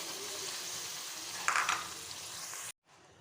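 Onion, ginger and garlic fry in a pan for chicken chana masala, a steady close sizzle with a brief stirring scrape midway before the sound cuts off abruptly.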